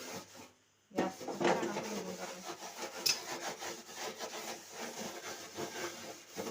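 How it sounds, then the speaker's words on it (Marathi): Dish scrubbing with a soap-lathered scourer in a home kitchen, a steady rasping, rubbing scrape that starts after a brief pause and continues close and fairly loud throughout. "घासणी घ्यायची घासणीला असं साबण लावायचं मस्त असं घासून घ्यायचं"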